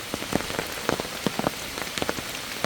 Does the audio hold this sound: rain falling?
yes